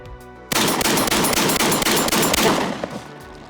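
SPAS-12 shotgun fired in rapid succession outdoors, a string of about eight loud, closely spaced blasts with ringing echoes, ending in a decaying tail.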